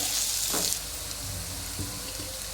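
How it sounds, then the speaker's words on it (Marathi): Finely chopped onions fry in a pan, a dense, even sizzle heard up close with a couple of soft stirring scrapes, no one speaking. "कांदे पण टाकून त्यात भाजूया"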